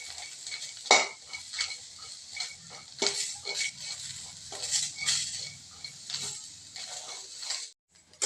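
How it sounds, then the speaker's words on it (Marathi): Cluster beans are stirred and dry-roasted in a pan until charred, with a spoon scraping and clinking against the metal in an uneven rhythm over a soft, steady sizzle, close and moderately loud. "गवारीला पूर्ण डाग होईपर्यंत चांगली आपण भाजून घ्यायची"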